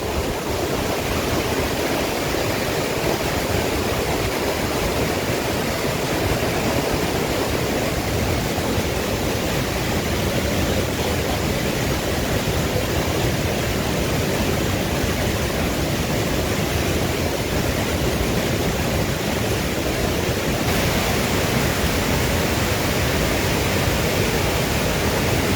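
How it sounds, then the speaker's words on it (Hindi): The flooded Swan river in Una, swollen by upstream rain, makes a constant, loud, roaring rush of turbulent water that stays steady throughout with no voices heard. "किस तरीके से जो नदी ने पूरा रौद्र रूप अपना दिखाना शुरू किया है"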